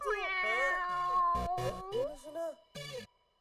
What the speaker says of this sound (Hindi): सकरू म्याऊं कर रहा है